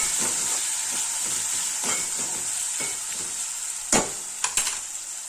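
A spoon stirs sweet corn pulao in a pan, the strokes scraping over a steady sizzling hiss, with a few sharper knocks near the end.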